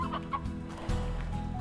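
Chicken clucking in the video game Slime Rancher, a few close, bright clucks and squawks in quick succession over a steady low in-game background hum.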